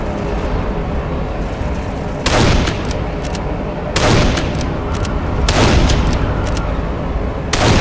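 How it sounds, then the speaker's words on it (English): Heavy artillery in the shooter game Darkest of Days booms three times at regular intervals, each loud blast followed by short crackling echoes over a dense, constant roar of battle. "We have to do something about that artillery."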